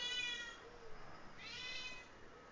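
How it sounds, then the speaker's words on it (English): A house cat meows twice, faint and drawn out, behind a quiet steady background hum. "Sorry if my cat's coming through."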